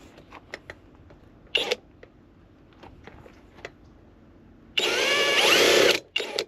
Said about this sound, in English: Try to hold the drill as straight as possible. Get a decently drilled hole.